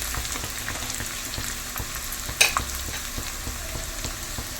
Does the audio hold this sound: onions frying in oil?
yes